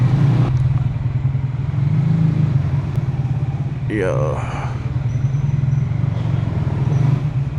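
Motorcycle engine idling steadily close by while the rider reverse-parks it in a tight spot, a low continuous rumble with some clatter, people talking over it.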